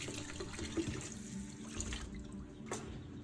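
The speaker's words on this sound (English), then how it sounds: "rinse the rack thoroughly with warm water to remove any remaining residue" Warm tap water runs into a sink while an oven rack is rinsed, a steady splashing flow with occasional clinks and shifts in the stream, fairly quiet and close.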